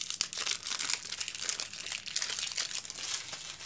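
Crinkly plastic and cardboard packaging of a Pokemon Trainer's Toolkit box being opened, a close, continuous run of sharp crumpling and tearing rustles with no talking.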